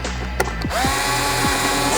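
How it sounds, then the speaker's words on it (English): An electric screwdriver whirring briefly as it backs screws out of a panel on a DJI Agras T100 agricultural drone, with a sharp click, then a steady close, loud motor whine. "you're going to have to be unscrewing some type of screws in here"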